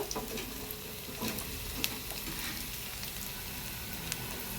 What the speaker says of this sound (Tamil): நல்ல வெங்காயம் மாநிறமாக பொரிஞ்சு வந்துருச்சு.